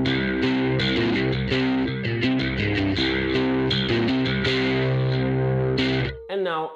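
Bass guitar run through a chorus effect set faster and deeper than usual, playing a busy, driving line with thick shimmering low notes and plucked attacks, loud and continuous, ending with a brief warbling tail.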